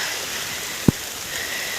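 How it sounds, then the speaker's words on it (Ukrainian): A heavy rain shower falls on a vegetable garden with peppers and tomatoes, a dense, steady hiss of pouring water broken by one brief nearby thump. "Ну, Такий супер дощ."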